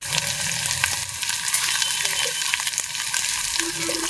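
Spice paste of ground onion, garlic and ginger with cumin, chilli and turmeric sizzles steadily in a pan for a country-style pigeon curry, a constant close frying hiss with occasional stirring scrapes and no talk.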